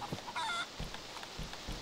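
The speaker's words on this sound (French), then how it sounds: "J'entends une poule." A hen clucks in the survival video game DayZ, a few short, faint honking calls at a distance over a low ambient bed, with no talking.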